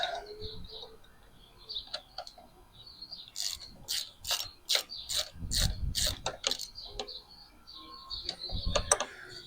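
A ratchet wrench tightens a bolt on pivoting risers being fitted to a 2022 BMW R1250GSA motorcycle, producing a close series of quick rhythmic clicks in bursts, with softer handling noises and faint voice around them.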